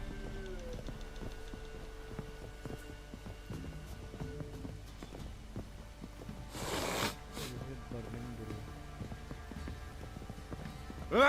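Horse hooves clip-clopping in The Witcher 3, a soft rhythmic walk of footfalls under ambient game sounds and rain, with a brief louder burst partway through and no speech.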